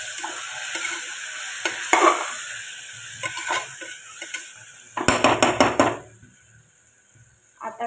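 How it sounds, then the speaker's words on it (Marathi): Spiced masale bhaat rice with turmeric is stirred and sautéed in a pan, with loud metal spoon scrapes and clinks in bursts over a soft sizzle, close by, ending in quieter frying. "हळद टाकल्यानंतर परत आपण परतून घेऊ."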